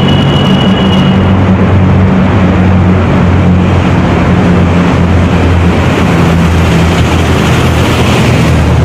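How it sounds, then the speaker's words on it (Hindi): A truck passing on a road near Sidhra, Jammu: loud, continuous engine drone and rushing road noise that stay steady for about nine seconds, with a low humming tone running underneath. "अभी ट्रक आएगा आवाज सुनना उसकी।"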